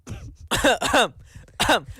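A live Free Fire esports commentator coughs and clears his throat close to the microphone, several harsh rasping bursts in quick succession across two seconds with no speech.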